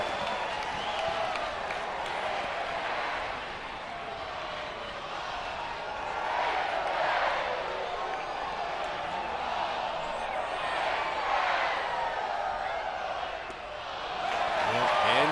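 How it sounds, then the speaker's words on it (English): Stadium crowd at a college baseball game between Arkansas and Kansas State, a steady roar of cheering and shouting with swelling waves and scattered whoops, with a commentator talking over it. "You're hearing the crowd trying to cheer on this team."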